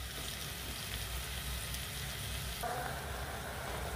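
A mixture for chicken, rice and vegetables being stirred in a hot pan, with a steady close sizzle and frying hiss throughout and faint scraping of the stirring.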